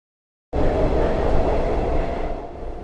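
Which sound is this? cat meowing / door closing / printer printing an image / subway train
subway train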